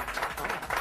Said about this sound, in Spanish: vamos a recibir con un fuerte aplauso, muy fuerte el aplauso